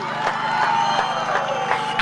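Crowd applause and cheering at an ANC political gathering in South Africa, a steady broadband wash of clapping with scattered whoops, loud and continuous for about two seconds.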